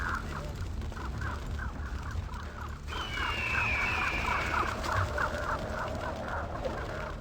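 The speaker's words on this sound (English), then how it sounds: "Get distracted by birds, Dick." Birds in the video game Vampire the Masquerade Bloodlines, a rapid run of repeated clucking or honking calls over steady game ambience, with a thin whistling sweep midway.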